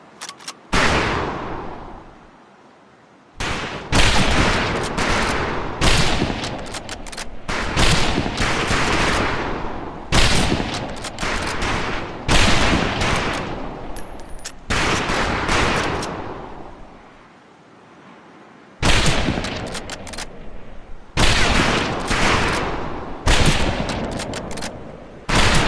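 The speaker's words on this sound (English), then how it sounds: "Ready on the right. Ready on the left. Stand by, targets. Fire!" Rifle volleys at a firing range in the video game Medal of Honor Pacific Assault, loud sharp bursts of gunfire in clustered groups separated by short silences, close and dominant throughout.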